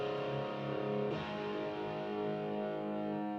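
Thin, buzzy distorted lead guitar tone played on a Telecaster and recorded at home, sustained notes ringing continuously and fairly quietly.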